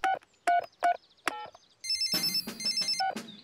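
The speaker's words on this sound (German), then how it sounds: "Ich rufe Opa Kleff mit seinem Abschleppwagen." Cartoon telephone rings in an animated children's show, starting with a few short separate trill bursts and then shifting into a brighter, faster electronic ringtone pattern that repeats in quick pulses.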